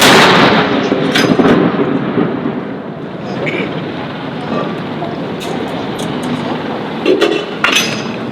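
Cannons of a 21-gun salute fired by US and UK soldiers at Edinburgh Castle, a loud booming blast that rolls and echoes away, with clinks and further sharp reports near the end.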